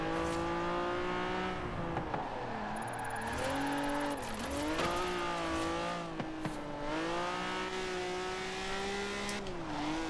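A tuned Honda engine in Forza Horizon 4 hums steadily through a corner, pitch sliding as it revs and eases, with a faint thin tire squeal and no talk.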